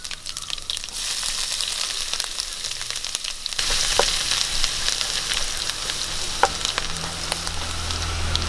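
Mustard seeds, chopped garlic and ginger frying in coconut oil as the base of a chicken curry, a loud continuous sizzle that flares up midway, with occasional crackles and a sharp pop toward the end.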